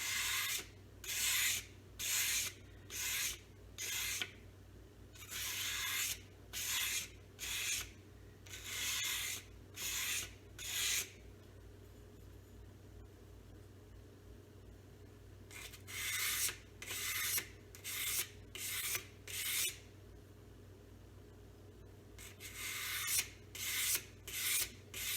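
A Bark River Santos knife is convex-sharpened in quick, rhythmic rasping strokes, close and clear. Bursts of several strokes alternate with short pauses, with no talking.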